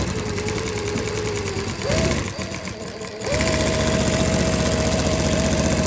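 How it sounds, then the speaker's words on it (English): A Mauser chain stitch embroidery machine sews moss stitch with a continuous close mechanical whir and rapid rattling rhythm, briefly slowing before running on steadily. "here you can see moss stitch embroidery work on your Mauser chain stitch embroidery machine."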